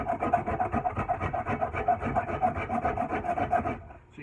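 A gouge shaving down a wooden handle to shape a flare, a quick rhythmic scraping of repeated rasping strokes, close and steady, stopping just before the end.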